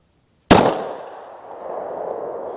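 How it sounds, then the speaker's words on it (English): A single sharp 9mm gunshot from a Winchester white box jacketed hollow point round cracks loudly and close, then rings out into a fading echo. "I'm gonna start out with the Winchester white box jacketed hollow points."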